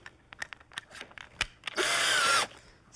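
After some light handling clicks, a power drill whirs loudly and steadily for under a second, close by, then stops abruptly.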